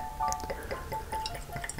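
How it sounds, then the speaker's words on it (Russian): 7 Zlakov vodka poured from a bottle into a glass, a short close trickle and splash with faint dripping, no talking. "Так, и мы, собственно говоря, сюда наливаем 7 злаков."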